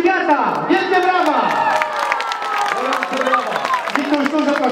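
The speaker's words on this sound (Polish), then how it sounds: "Wielkie brawa!" At an indoor youth football tournament for players born in 2008, a hall crowd claps and cheers with whoops and children's shouts, while an announcer's voice booms over the sustained applause.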